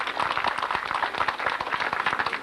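Audience applause for a French cyclo-cross champion at an FSGT championship ceremony in Lacenas, a dense, steady patter of many hands clapping throughout.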